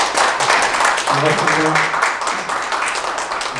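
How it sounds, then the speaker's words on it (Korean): An audience at a tax seminar for CEOs claps to welcome the speaker, moderate steady applause in a hall while someone speaks over it. "그럼 큰 박수와 함께 대표님 모시도록 하겠습니다."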